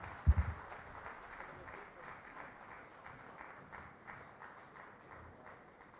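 Audience applause at a medical conference felicitation, a moderate rhythmic patter of clapping from a hall crowd after a couple of low thumps at the start, continuing evenly for several seconds.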